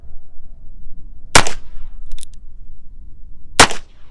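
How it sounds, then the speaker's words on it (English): Two sharp, loud gunshots from a Heritage Rough Rider single-action revolver, spaced about two seconds apart, each with a short ringing tail; a faint metallic clink falls between them. "Let's put a couple in it and take a couple of shots."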